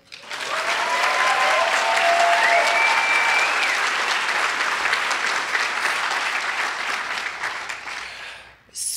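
An audience at a law luncheon award event applauds loudly and steadily for Zoey, with a few whoops rising over the clapping, which fades out at the end.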